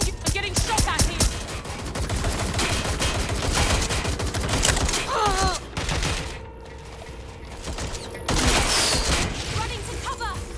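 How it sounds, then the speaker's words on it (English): Gunfire in the game Watch Dogs: Legion, loud rapid bursts of automatic shots and cracks nearly throughout, with a brief lull before more shots, and voices talking in between. "I'm getting shot at here."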